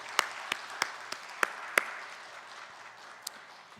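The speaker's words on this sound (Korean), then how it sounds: "우리 뜨거운 박수 한번 보내겠습니다" A few distinct handclaps ring out over a soft wash of applause from a church congregation that quickly tapers off, one last clap sounding near the end.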